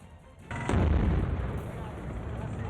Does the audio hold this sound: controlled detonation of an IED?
yes